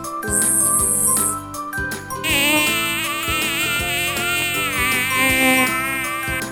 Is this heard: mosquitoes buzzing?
yes